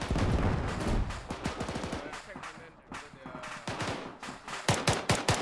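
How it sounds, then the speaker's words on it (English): Tank rounds cooking off in the Arma 3 video game, at night during a convoy operation, rattle as dense, rapid bursts of loud cracking detonations with brief pauses and a heavier cluster at the end. "Oh, those tank rounds cooking off are heavy."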